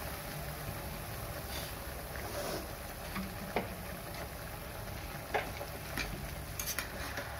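Cabbage and potato curry with masala is stirred in a pan over a low to medium flame. Soft scrapes and clinks of the spoon sit over a steady background hiss and gentle sizzle, with a few sharper taps. No one speaks.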